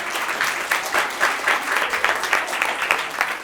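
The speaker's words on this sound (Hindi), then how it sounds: "तो एक बार अपने लिए तालियां बजा लीजिए" Audience members at a social drama event clap for themselves in a continuous, fairly loud round of applause, many hands beating together with slight swells and no talk over it.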